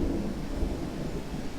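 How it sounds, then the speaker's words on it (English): Low, rolling thunder rumbles steadily ahead of rain, heard from outdoors by a car camper with no talk. "I don't know if you can hear that, it's thunder and it's gonna rain out."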